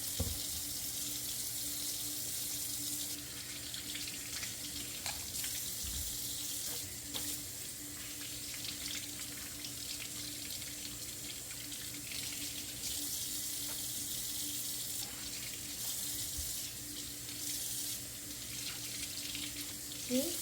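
Tap water runs steadily into a sink while apples are rinsed, a continuous close hiss and splash with small clinks from handling, no talk over it.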